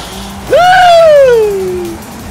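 A car in the racing game Forza Horizon 5 brakes hard, a single loud tire squeal that rises sharply, then slides down in pitch as it fades over about a second and a half, over a soft background hiss.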